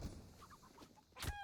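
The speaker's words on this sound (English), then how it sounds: "Slices up a chicken." A chicken in the Counter-Strike map Inferno clucks faintly under game noise, then gets sliced with a sharp, loud hit near the end.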